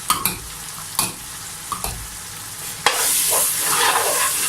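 White beans fry in a pan with coriander, cumin and turmeric powders and chili, a few sharp spoon scrapes up front, then the sizzle swells into a steady loud hiss as stirring continues.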